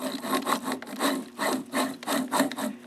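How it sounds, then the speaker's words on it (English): The joystick of a Zeiss SL-120 slit lamp, moved to raise the lamp, produces a repeated rough scraping and grinding, about six close rhythmic bursts with no one talking. "When I move the joystick elevating the slit lamp, it makes a lot of noise."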